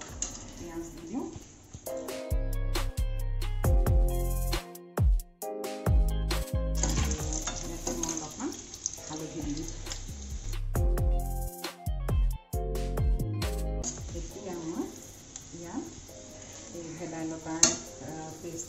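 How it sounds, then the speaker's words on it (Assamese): Chopped onions sizzle steadily in hot oil left from frying fish in an Assamese home kitchen, with loud music playing over the frying throughout. "এতিয়া মই এইখিনি তেলতে এয়া অলপ পিঁয়াজ দি দিওঁ"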